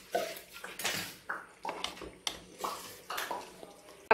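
A spoon stirs tapioca and cooked meat together in a pot for biryani. Soft scraping and wet clinking strokes repeat about every half second, quiet and close, with no talk over them.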